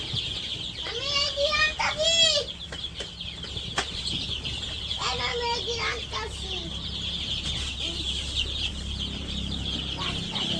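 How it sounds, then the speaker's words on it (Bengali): Chickens, including several black hens, cluck and call in a rural Bangladeshi village yard, with two louder bursts of fowl calls near the start and middle over steady outdoor background, with faint children's voices nearby. "মুরগিগুলা মাশাআল্লাহ আস্তে আস্তে চঞ্চল হইতেছে"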